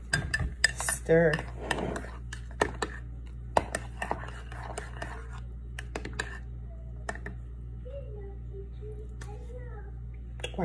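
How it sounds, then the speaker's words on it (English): Spoon stirring coffee with white chocolate syrup, a quick series of sharp clinks and taps against the cup, close and crisp over a quiet background, with soft talk between. "I stir it up."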